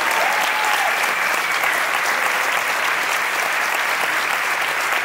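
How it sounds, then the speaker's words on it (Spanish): An audience at a poetry recital claps loudly and steadily for the whole stretch, a dense wash of applause filling the room with no voices standing out. "y un aplauso, por favor, enorme para él"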